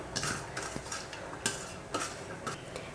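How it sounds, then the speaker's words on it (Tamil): Moong dal vada batter with chopped onion, curry leaves and salt being mixed and kneaded by hand in a bowl: soft wet squelching and stirring pulses repeat in a steady rhythm, close and moderately quiet, with no talking. "வெங்காயம் மாவெல்லாம் போட்டு பிசைஞ்சாச்சு"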